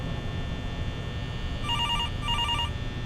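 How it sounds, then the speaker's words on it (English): An electronic phone ring in the fan-made horror game The Return to Freddy's, two short trilling bursts over a steady background hum. "let's listen to this phone call"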